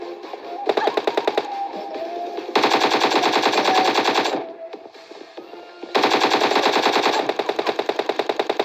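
Rapid automatic gunfire from PUBG Mobile Lite, loud sustained bursts of machine-gun shots in a steady rhythm, with short pauses between volleys and no talking.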